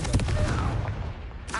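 The Confringo explosive spell from Hogwarts Legacy on PS5 bursts with a sudden blast and then a rumbling decay that fades within about a second and a half.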